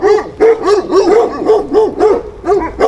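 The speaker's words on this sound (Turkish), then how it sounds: "hala köpekler havlıyor" Several street dogs bark loudly and close by in quick, rhythmic bursts, with some yipping mixed in, in Tunceli.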